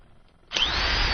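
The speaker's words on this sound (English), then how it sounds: "Eric tapped me during that and had plugged in the drill." A power drill kicks on abruptly after a quiet moment in a radio studio, then runs as a steady, loud, high-pitched whine to the end.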